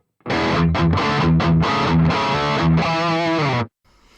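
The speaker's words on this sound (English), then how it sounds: "if I turn everything off, the delay, the reverb, and the EQ, we're left with just a basic amp tone" An electric guitar plays a quick run of distorted, chugging notes through a BOSS ME-90 basic amp tone with delay, reverb and EQ off, loud and dry, ending with a sustained chord that cuts off abruptly.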